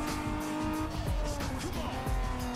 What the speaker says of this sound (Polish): Supra stokowa pali kapora na jedynce